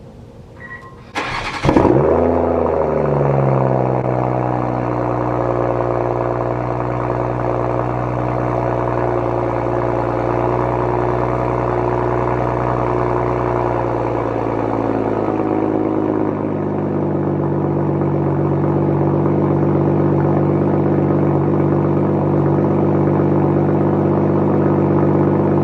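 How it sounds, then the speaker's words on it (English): A BMW M340i fires up from cold with a brief starter whine and a loud flare. It settles into a steady, fast, throaty high idle, and the idle drops noticeably lower near the end. "let's see this cold start real quick."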